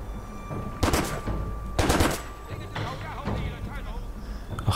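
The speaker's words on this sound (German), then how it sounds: "Schuss." Bursts of gunfire from the action video game Stranglehold, two loud volleys about a second apart followed by softer scattered shots and game effects, with a voice talking over them.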